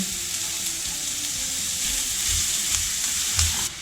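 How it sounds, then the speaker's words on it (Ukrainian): Onion frying in a little oil in a skillet, a loud close hissing sizzle with low, soft stirring thumps underneath, and no talking. "В сковорідку наливаю трішки олії та буду обсмажувати цибульку з морквою"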